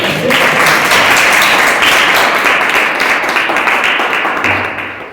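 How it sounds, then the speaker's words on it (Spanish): Audience applause for poet and writer Alfonso Nasif at a library event, a dense steady wash of clapping that holds loud for most of the stretch and then thins and fades near the end. "un aplauso para él"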